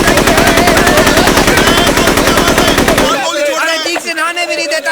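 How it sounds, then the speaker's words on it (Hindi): Rapid machine-gun fire in a dubbed South Indian action movie, a loud dense burst of fast evenly spaced shots for about three seconds, cutting off abruptly into someone speaking. "गोलियां पे गोलियां चलाया जा रहा है।"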